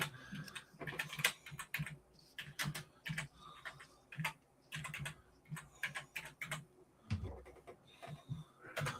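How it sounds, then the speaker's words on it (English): Quick clattering keystrokes on a computer keyboard in irregular bursts with short pauses, close and fairly quiet, with no talking. "I tried typing in the wrong place."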